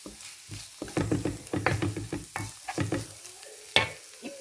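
A banana flower stir-fry sizzles in a pan while a spoon stirs and scrapes through it in a run of uneven clattering strokes, close and moderately loud over the frying.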